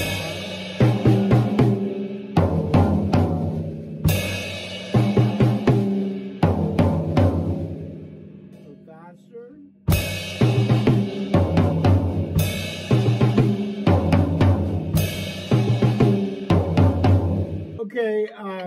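A drum kit plays a 5/4 intro groove twice, with tumbling tom triplets and crashing cymbals between pauses, loud and close.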